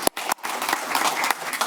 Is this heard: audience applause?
yes